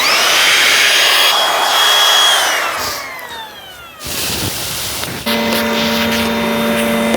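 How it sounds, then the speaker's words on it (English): A wood router cuts timber for a 1930s timber garage door, a loud whining power-tool roar with pitch that sweeps and drops, then steadies into a sustained high tone near the end. "when the router goes up and down in there, the bit will just go exactly where I want it to"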